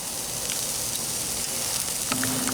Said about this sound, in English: We'll spin it around and we'll continue to sear these.